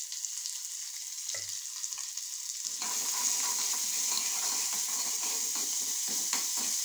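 Sliced bitter gourd and onion sauté in a pan, starting with a soft hiss that swells into a loud, steady sizzle after a few seconds, with light scraping of stirring; no talking.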